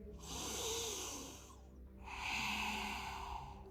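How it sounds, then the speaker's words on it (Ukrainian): A yoga practitioner takes two long, audible breaths through the nose, each a slow, airy rush separated by a brief pause, heard close and quiet with no talking. "Вдих."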